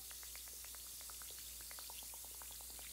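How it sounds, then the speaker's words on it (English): A bath bomb fizzing in bath water, with a faint steady hiss of tiny popping bubbles throughout and nobody speaking. "Do you hear all those bubbles in there?"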